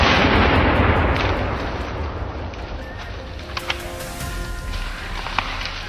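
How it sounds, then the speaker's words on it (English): A single gunshot during a winter wild boar hunt, loud at the outset with a long broadband echo that rolls away and fades over several seconds, leaving faint rustles and clicks in the quiet woods. "The gunshot rang out, precise, deadly"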